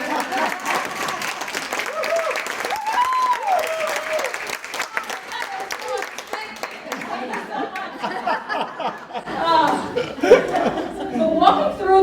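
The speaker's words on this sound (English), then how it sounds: "pause for applause" A keynote audience applauds steadily for several seconds while chuckles and laughter ripple through the crowd, with voices and chatter mixed in and the clapping swelling again toward the end.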